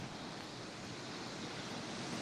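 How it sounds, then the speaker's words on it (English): Ocean surf at San Bartolo beach makes a steady, dense roar of breaking waves with no pauses, fairly soft and continuous throughout. "There's nothing like hearing the ocean waves crashing."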